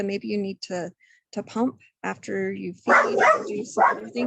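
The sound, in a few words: dog barking in the room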